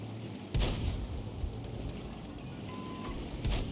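Artillery fire in a tank video game, with a heavy boom near the start and another near the end over a steady low rumble.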